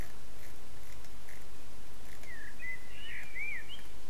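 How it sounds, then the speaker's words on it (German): Ambient birdsong in the zoo-building video game Wildlife Park 3, a few faint, thin chirps and short warbling calls arriving in the second half over a soft, steady background hiss. "Jetzt hört man auch mal am Vogelgezwitscher hier."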